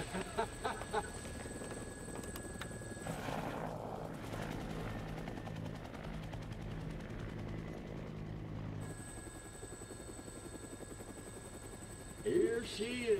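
Helicopter in the Dead Rising Deluxe video game, its rotor thumping in a steady close drone that persists through the whole stretch, with a voice faintly present.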